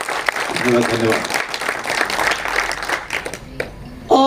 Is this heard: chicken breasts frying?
no